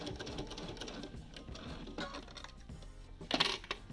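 A sewing machine stitches binding onto a quilt in a rapid, continuous mechanical patter, followed by a brief louder clatter near the end.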